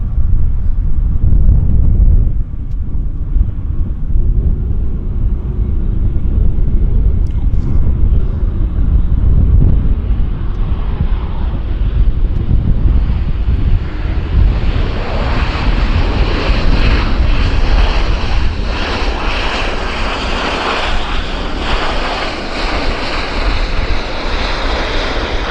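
An airplane inbound from Chicago arrives at Vancouver Airport with a loud, continuous engine roar buffeted by wind noise, its tone rising and shifting as it passes close by.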